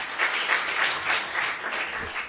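Audience applause welcoming a National Assembly member to the podium at a political policy forum, a steady dense clapping that holds at moderate loudness for a couple of seconds with no voices.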